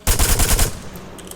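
Rifle firing full auto in the video game Arma 3, a quick rapid burst of about six close, loud shots followed by a short fading echo.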